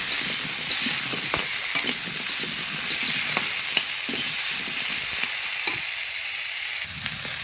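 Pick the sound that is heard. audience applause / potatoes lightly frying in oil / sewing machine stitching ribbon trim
potatoes lightly frying in oil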